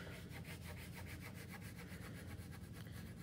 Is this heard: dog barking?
no